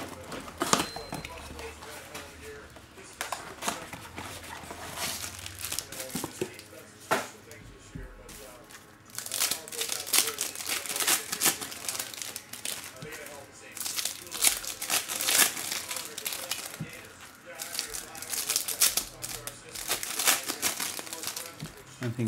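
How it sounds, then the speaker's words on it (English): Bowman Platinum baseball blaster box packaging being ripped open, with repeated crinkling and tearing of plastic and foil bursts close up, mixed with handling noise and faint talk. "let's rip open this blaster box"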